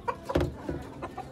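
Black Kadaknath chickens on the ground give a few short, soft clucks close by, one louder burst near the start and quieter calls after.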